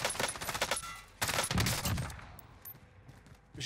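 Several bursts of automatic gunfire in the video game Warzone, including an AUG rifle, crackle close and loud in quick volleys before falling away to quieter scattered shots.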